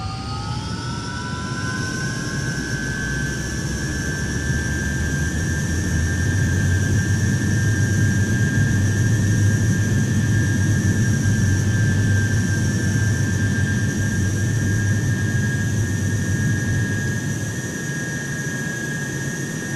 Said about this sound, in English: we're going to power up our two Rolls-Royce Derwet 8 turbojets